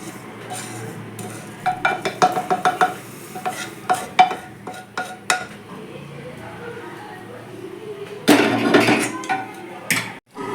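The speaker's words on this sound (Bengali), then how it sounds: "এই যে চালটাকে আমি ভালো করে দু তিনবার করে ধুয়ে নিয়েছি" Rice is rinsed by hand in a bowl of water in a home kitchen for a vegetarian potato and pointed gourd dish, with bursts of swishing, stirring and light clinks against the bowl while someone talks.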